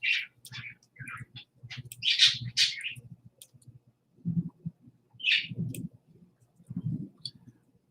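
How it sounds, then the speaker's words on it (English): Pet birds kept at home give bright chirps and short tweets in scattered bursts, mixed with soft low clicking and cooing-like murmurs, moderately quiet and close by. "The birds are awesome."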